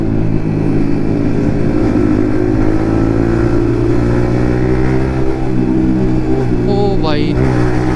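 A Yamaha MT-15 motorcycle fitted with an Akrapovic exhaust drones steadily and loudly while riding, with strong wind rush throughout and a brief rising rev near the end.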